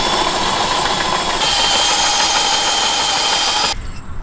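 A power tool whines steadily and loudly, close up, while driving bolts into the drawbar of a salvaged 24-foot caravan. The pitch shifts once partway through, then the tool cuts off abruptly near the end.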